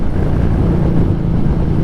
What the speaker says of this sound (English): The fucking wind, dude. It's like 17 different directions at once.